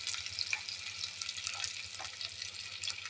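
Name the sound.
frying onion and spices in hot oil in a pan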